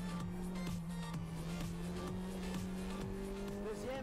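A Renault Sport race car on a circuit brakes hard and downshifts, heard from onboard as a loud, continuous engine whine with pitch dropping in repeated steps as gears change, under a steady roar.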